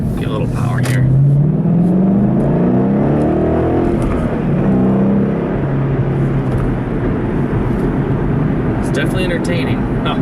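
A 2013 Ford Mustang GT CS engine revving hard under acceleration, a loud rising and falling growl heard from inside the car, with a person talking over it at the start.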